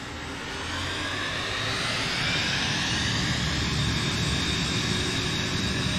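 A steady airplane engine drone fills the cabin during a flight in Microsoft Flight Simulator 2024, with flaps lowered one notch. The broad, even roar holds without a break and swells slightly early on, with no talking.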